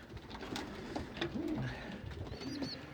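Pigeons with young chicks coo softly nearby, a few low throaty calls over quiet background rustling, with a faint chirp near the end.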